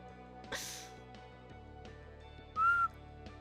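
A person whistles one short, clear, high note late on, preceded by a brief breathy hiss, against a quiet background with faint tonal hum.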